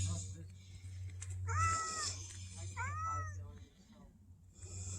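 Injured black-and-white tuxedo feral cat giving two clear drawn-out meows a second apart, close by, over a low hum with people talking softly around it.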